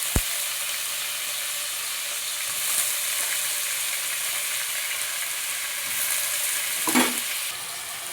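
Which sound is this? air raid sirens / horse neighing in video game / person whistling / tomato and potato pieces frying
tomato and potato pieces frying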